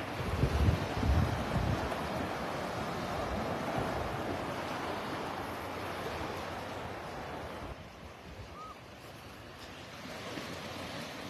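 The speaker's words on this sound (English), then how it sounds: "Like I said, the wind is part of the beach." Steady wind rushing across the microphone on Vanderbilt Beach in North Naples, Florida, with broad surf-like noise, louder at first and easing slightly toward the end, no voices.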